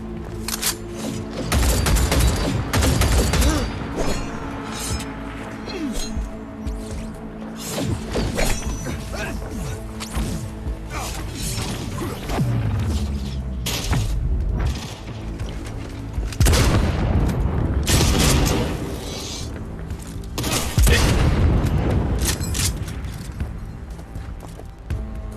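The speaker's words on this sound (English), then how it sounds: "This gun's kinda nice." Gunfire in the video game Cyberpunk 2077 crackles in repeated bursts alongside booms, crashes and mechanical clatter, loud and dense throughout, with a voice briefly heard.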